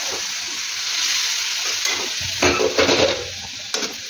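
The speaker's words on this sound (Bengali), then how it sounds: "গরম জল অ্যাড করে দিচ্ছি।" Hot water poured into a pan of jackfruit and potatoes, a steady hiss swelling into a louder burst of sizzling and splashing, followed by a few clanks of a utensil, close and loud, no speech.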